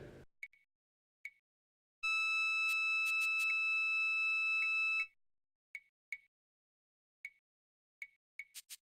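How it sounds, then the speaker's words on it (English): A puff-buster smoke detector sounds in the Tex Murphy video game Under a Killing Moon with a long, steady electronic tone of about three seconds, surrounded by short sharp clicks and beeps in otherwise quiet surroundings. "that's a puff-buster smoke detector."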